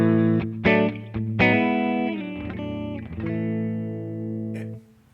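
Clean-tone electric guitar through a Cherry Tone OTS Mini 20 amp and a Two Notes Torpedo Captor X with reverb, playing a few plucked chords and sustained notes that ring out and fade, no voices.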